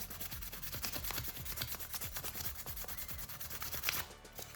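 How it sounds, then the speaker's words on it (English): Fine 600 or 800 grit sandpaper rubbing on a plastic Warcrow Northern Tribes miniature part, a steady run of quick, close scratchy strokes repeating in a brisk rhythm with no talking. "you finish off with some 600 or 800 grit sandpaper like this one"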